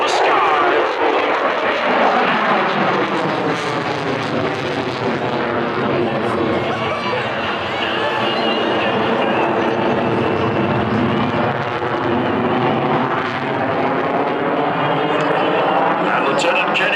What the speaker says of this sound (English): look as that Tomcat, that beautiful Tomcat, pulls high into the sky